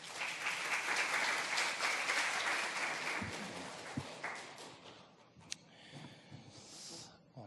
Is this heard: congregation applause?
yes